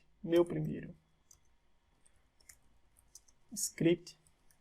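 Light, soft clicks of typing on a computer keyboard tick faintly in a quiet room, between short bursts of nearby speech.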